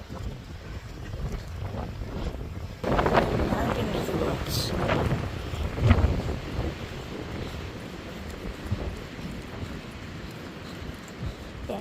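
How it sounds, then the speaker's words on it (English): Strong wind gusts across an open trail in Kinnickinnic State Park, roaring into the microphone with surging bursts while a person talks over it. "It's really windy now."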